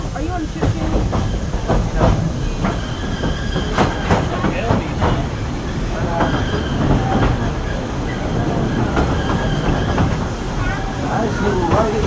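Walt Disney World Railroad train rolls steadily on its rails with rhythmic clicks and rumble throughout, loud and continuous, while a narrator's voice speaks over the running noise.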